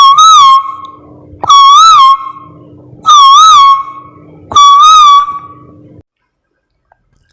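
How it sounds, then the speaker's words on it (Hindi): Sweet melodic calls standing in for a koel, four loud whistled phrases each with a quick rising-falling warble, evenly spaced, close and clear, followed by silence. "कोयल ने दाने चुगकर सबको एक मधुर धुन सुनाई।"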